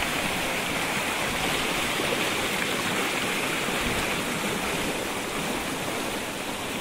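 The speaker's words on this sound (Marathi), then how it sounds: "पाणी वाहता आता बघा" Water pours into a rice paddy field at Kumbhavade in Rajapur during the planting season. It makes a steady, close, rushing flow that stays even from start to finish with no talk.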